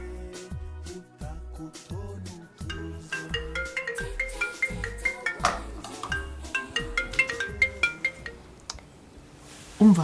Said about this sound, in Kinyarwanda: yewe ngwino witaba telefone